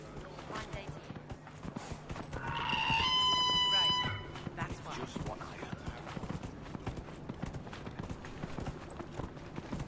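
A summoned horse mount arrives in Dragon Age Inquisition with a rhythmic clip-clop of hooves and a brief whinny, heard under a person talking.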